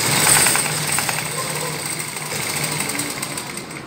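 A sewing machine runs steadily while stitching cloth in a straight seam, a continuous close mechanical whirr with fast rhythmic clatter of the needle, holding an even pace throughout.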